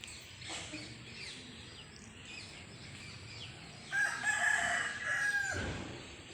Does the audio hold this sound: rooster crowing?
yes